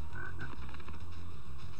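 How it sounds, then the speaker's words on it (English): Continuous croaking of a frog in the Spyro video game, a steady, fairly loud pulsing croak without talk. "there's a frog hidden right there."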